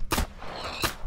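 Two sharp gunshots in a Minecraft video game ring out about a second apart, quiet and slightly distant, with a faint hiss between them.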